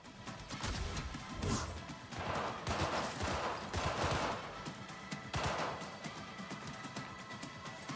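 Gunfire in the video game Cyberpunk 2077 Phantom Liberty: repeated sharp shots and crashing impacts come in bursts over a dense, busy combat background.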